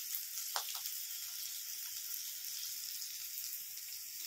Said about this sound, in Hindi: अभी मैं करेला और प्याज फ्राई कर रही हूँ